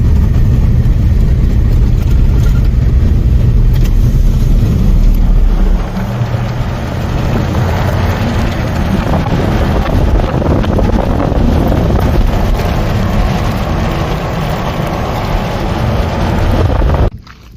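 A car drives onto the rough gravel of the Denali Highway, a loud steady engine and road roar with heavy wind buffeting, easing slightly partway through and cutting off at the end.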